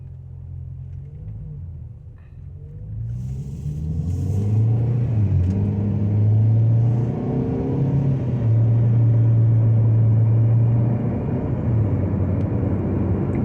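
Tuned VW Passat 1.8 with aftermarket intake and exhaust, sitting in neutral, revving to about half throttle; a steady low engine drone swells and holds loudly for several seconds with wavering pitch, close by and without talk.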